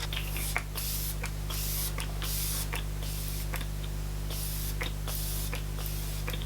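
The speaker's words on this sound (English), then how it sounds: "This is like one of my top 5 setting sprays" Makeup setting spray hisses out in repeated short fine-mist bursts, close by, over a steady low electrical hum.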